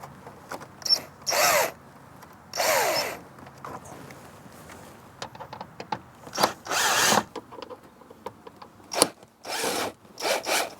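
Power drill with a Phillips bit backing out screws from a car's kick plate under the dash of a Dodge, in several short whirring bursts separated by pauses and small clicks and clatter.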